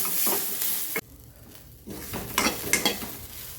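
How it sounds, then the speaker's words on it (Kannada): Cluster beans frying in a little oil in a pan while being stirred, giving a close, steady sizzle with spoon scrapes that drops briefly and then returns with louder stirring clatter. "ನೋಡಿ ಚೌಳಿಕಾಯಿ ಎಲ್ಲ ಹುರಿದಿದೆ"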